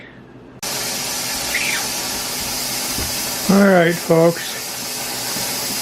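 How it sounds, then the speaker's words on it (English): An electric pressure canner processing coleslaw vents a steady, continuous hiss of steam close by. A voice briefly speaks over it. "Hopefully you can hear the steam blowing out back here."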